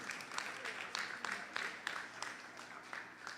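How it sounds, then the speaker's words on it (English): An audience at a Krishna temple Sunday service applauds, a steady patter of many hands clapping with slight swells, at moderate distance and somewhat muffled. "So please, let us give Anil a round of applause this morning."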